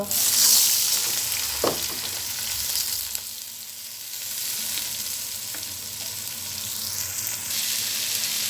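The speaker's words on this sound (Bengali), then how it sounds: "ফ্রাইড রাইসের জন্য এভাবে চালটাকে একটু ভেজে নেবেন" Rice grains frying in a pot with three pieces of cinnamon and two cardamom pods, a steady close sizzle with occasional stirring scrapes, no talking.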